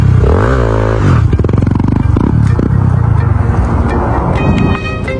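Weak-sounding motorcycle engine running close and loud, with uneven revs, rattling clatter and a whining pitch rising and falling early on.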